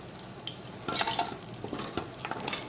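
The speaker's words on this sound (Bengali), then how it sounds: "মাছগুলো আমি ভালো করে ভেজে নিয়েছি" Fish frying in plenty of hot oil: a continuous moderate sizzle with clinks of a utensil and stirring scrapes, louder in the middle, no voices.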